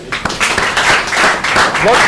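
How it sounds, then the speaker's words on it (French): Audience at a school quiz competition between two schools applauding a student, a burst of close, busy hand clapping mixed with cheers, lasting a couple of seconds. "Est-ce qu'on peut l'applaudir?"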